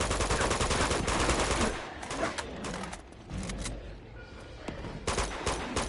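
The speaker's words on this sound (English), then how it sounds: "The hell are they shooting at?" Dense, continuous gunfire from the video game Uncharted 2, with rapid automatic bursts and overlapping shots filling the whole stretch, loud and close, easing briefly in the middle before picking back up.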